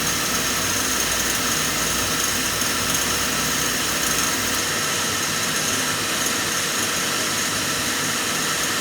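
An oil burner runs steadily during a service, a dense continuous roar with a broad hiss and no pauses, loud and close throughout.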